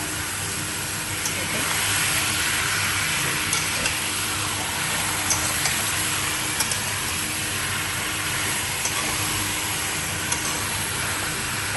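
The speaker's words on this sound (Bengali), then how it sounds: "এখন আপনি মাংসটাকে যে আমি মাখিয়ে রেখেছিলাম ওইগুলো ঢেলে দেবেন।" Marinated chicken goes into hot oil in a pan with only a little oil. A steady, loud sizzling hiss runs throughout, with a few small pops and crackles.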